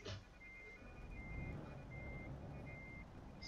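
A truck in Euro Truck Simulator 2 reverses with a steady, repeating electronic beep over a low engine rumble, with faint in-game ambience.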